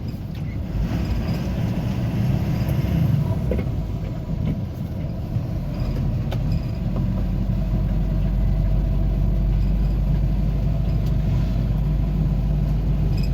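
A KL 11-registered vehicle approaches on a forest road through Bandipur Tiger Reserve, a steady low engine rumble that grows fuller and heavier in the second half, with no talking.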